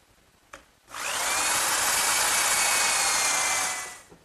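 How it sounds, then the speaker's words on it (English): A power drill with a quarter-inch brad point bit fitted with a depth collar bores a dowel hole in wood for a chair, whining steadily at high speed for about three seconds after a brief click. "Now to drill the hole, I'm just going to use a quarter-inch brad point bit"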